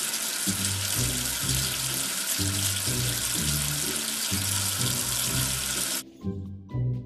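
Running water rinsing soap off a letter in a children's English-learning game, a loud continuous splashing rush under a repeating bouncy game tune, cutting off abruptly near the end while the music carries on.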